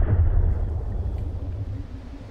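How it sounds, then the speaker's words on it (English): A low, heavy rumble from an explosion in the TrailMakers game during a tug boat carrier race, booming loudly at first and then slowly fading away with no talking over it. "I just heard that explosion."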